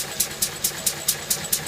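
A 1951 Lister D single-cylinder stationary engine runs steadily at idle, a close, even chuffing beat with sharp exhaust pulses about five times a second, alone with no talk.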